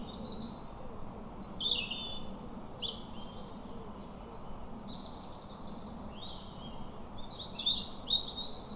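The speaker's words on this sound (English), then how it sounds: "Lots of birds about" Birds call and chirp in a country park in early morning, scattered high tweets at moderate distance over a low steady background hum, with no talk.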